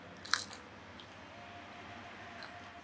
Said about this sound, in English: But you can hear a crunch.